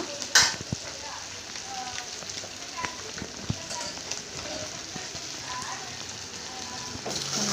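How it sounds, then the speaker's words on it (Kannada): Chilli, pepper and coriander powders frying in a pan for chicken sambar, a continuous crackling sizzle with scattered clicks of stirring and a sharp scrape near the start. "ಮಿಕ್ಸ್ ಮಾಡ್ಕೊಳ್ಳಿ ಮೆಣಸಿನ ಪುಡಿ ಧನಿಯಾ ಪುಡಿ ಚೆನ್ನಾಗಿ ಮಿಕ್ಸ್ ಆಗಲಿ"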